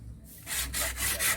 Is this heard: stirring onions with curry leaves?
no